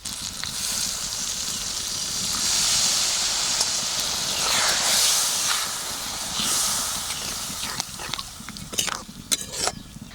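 Water from boiling potatoes and young jackfruit is poured into hot spice masala, giving a strong continuous hiss and steamy sizzle that swells and fades, ending in a few sharp clinks.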